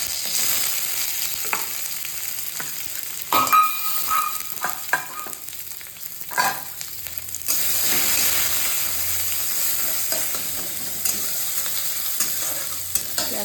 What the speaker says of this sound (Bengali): আমি এখন পেঁয়াজ কুচি দিয়ে দিলাম